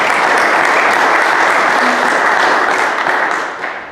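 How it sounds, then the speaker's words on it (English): A church congregation applauds itself after a successful concert, with a broad, steady roar of clapping from many hands that holds strong and then begins to fade near the end. "So let's give yourselves a round of applause."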